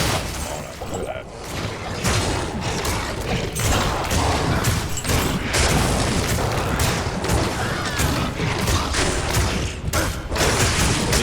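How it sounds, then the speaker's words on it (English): Corpse explosion effect in Diablo 2 game combat: a dense, continuous barrage of booming blasts and crunching thuds, loud and busy throughout with no pause. "You hear that sound effect? That sound effect means corpse explosion."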